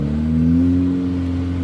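Steady low engine drone with harmonics from a loud car exhaust, with the engine apparently mounted at the rear, holding a near, even rev for under two seconds with no talk.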